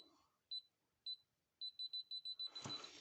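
A GVDA GD 128 multimeter in hidden-wiring detection mode beeps with short, clear, high electronic tones: two isolated beeps, then a quick run of rapid beeps, with a burst of rustling handling noise at the end.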